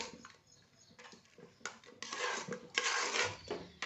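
Jaggery, coconut pieces and coarsely crushed fennel are stirred together in a pan for a traditional karad khichda, giving uneven scraping and rustling bursts close by that grow louder and busier toward the end.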